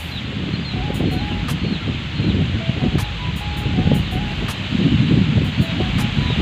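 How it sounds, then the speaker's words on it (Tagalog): Strong wind buffets and rustles continuously, gusting louder toward the end, with faint bird chirps in the background. "Lakas pa naman ang hangin dito"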